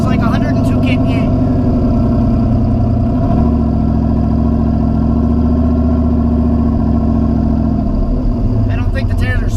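Turbocharged LS-swapped 4x4 Ford Ranger held on the foot brake while building boost, a loud close engine drone that rises and holds steady before dropping, with brief turbo whooshes at the start and end.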